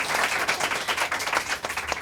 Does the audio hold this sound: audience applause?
yes